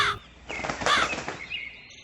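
A cartoon crow caws in a short burst, loud and close, with a whooshing flutter of wings around it in a brief animated scene.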